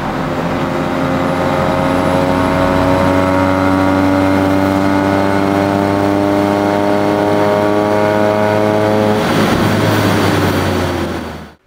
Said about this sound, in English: We're going to do a pull in 4th gear all the way to red line.